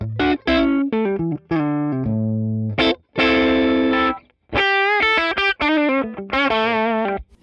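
Heavily saturated electric guitar through a Tweed Deluxe amp playing a phrase of sustained notes and chords, thick and fuzzy with a warm overdriven tone, loud and upfront.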